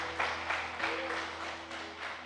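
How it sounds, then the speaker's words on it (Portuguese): Congregation at a Portuguese-language church sermon applauds, a broad wash of hand claps with a few swelling bursts over about two seconds, fairly distant and moderate in level. "Pode aplaudir o Senhor?"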